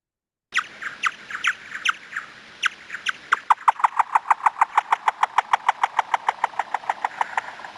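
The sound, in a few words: echolocation chirp lowered in pitch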